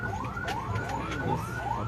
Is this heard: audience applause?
no